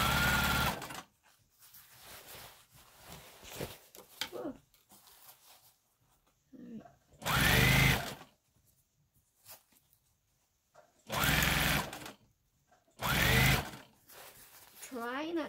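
A sewing machine stitching a hem on a prom dress with a nylon or horsehair band, in several loud whirring bursts of a few seconds each, with talk in the quiet gaps between them.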